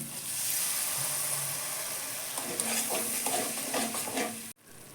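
Onion and tomato spice paste cooking down in oil for a fish curry, a soft continuous sizzle and hiss with gentle stirring scrapes building toward the end, then cutting off abruptly.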